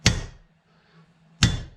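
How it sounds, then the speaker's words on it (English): Hammer striking a punch on the seat rail of a 1964 Jaguar MKII, two sharp metallic blows about a second and a half apart, close and loud, with a faint ringing between them. "He's a little more accurate than me with a hammer."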